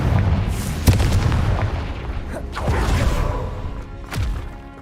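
Confringo spell blasts in Hogwarts Legacy on Xbox, several booming explosions with whooshing bursts, one sharp hit near the start and more heavy booms following in uneven rhythm, loud and close.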